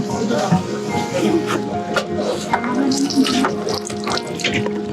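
Water gushes and splashes steadily from a burst water tank inside a camper at a caravan show, a close, continuous pouring and dripping noise with a few brief clatters.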